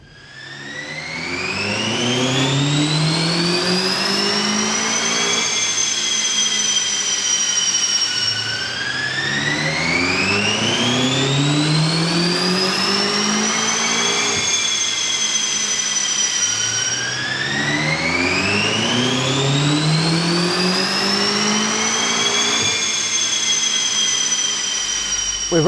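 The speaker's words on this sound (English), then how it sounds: "We've run the BMW up on the dyno" A BMW M5 runs on a dyno, its engine revving loudly through three long, rising sweeps, each climbing in pitch before dropping back and starting again.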